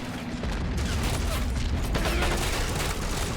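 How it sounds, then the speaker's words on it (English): A rocket launcher fires during a battle in the video game Army Men of War, buried in a dense, continuous din of gunfire, booms and explosions that stays loud throughout. "Oh, there goes his rocket launcher."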